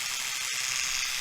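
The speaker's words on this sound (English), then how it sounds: "I take my electric toothbrush" An electric toothbrush held against garden flowers gives a steady, bright high-pitched buzz that runs unbroken throughout, close and fairly loud.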